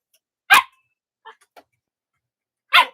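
A dog barks twice, loud and close, with a pause of about two seconds between the barks and a few faint small sounds in the gap.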